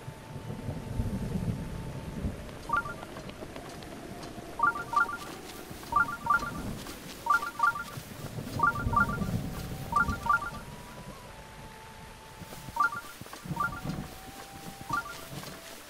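Shrine sensor signal in Zelda Breath of the Wild, a rhythmic run of short electronic beeps in quick clusters repeating every second or so over a soft ambient background, with no voices.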